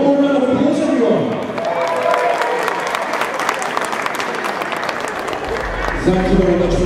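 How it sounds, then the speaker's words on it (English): Audience at a cosplay contest final bursts into applause and cheering for the overall winner, a loud crowd roar of clapping that swells after a voice speaks and gives way to talk again at the end. "One more round of applause, everyone."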